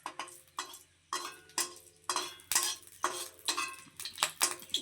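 Spices crackling and popping in hot oil for home-cooked dal with onion, irregular sharp bursts coming in quick repeated clusters, fairly quiet and close, with no talking.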